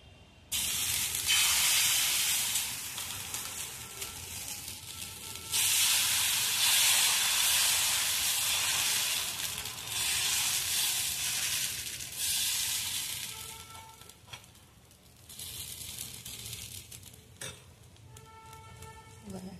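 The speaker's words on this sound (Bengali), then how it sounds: "তাওয়াটা গরম হয়ে গেছে, এবারে আমি এতে দেবো ব্যাটারটা" Batter hits a hot, lightly oiled tawa and bursts into a loud, steady hissing sizzle that swells and eases in waves, then settles to a softer crackle near the end.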